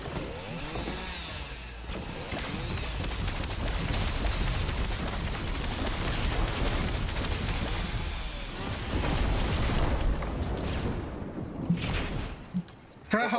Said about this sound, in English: For how loud this plasma gun is.